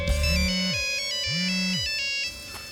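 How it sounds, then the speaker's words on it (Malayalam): A mobile phone ringtone plays a bright electronic melody over a steady tone, cutting off after about two seconds. It is loud and close, with no talking, in a Malayalam comedy film scene. "നിന്റെ ഫോൺ അടിക്കുന്നു"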